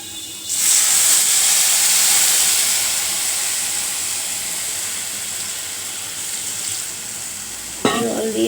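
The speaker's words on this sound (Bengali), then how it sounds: "জল দিয়ে দিলাম।" Water is poured into a hot pan of potato curry (aloo chorchori), setting off a loud, sustained close hiss and sizzle that slowly settles, with a brief clink near the end.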